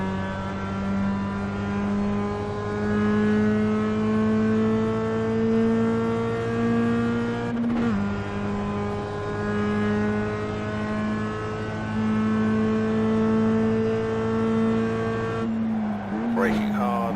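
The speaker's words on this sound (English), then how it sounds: "Braking hard, going down the gears." Race car in the iRacing sim at Summit Point braking hard and dropping through the gears, a steady loud engine drone with sharp pitch shifts near the end as it downshifts.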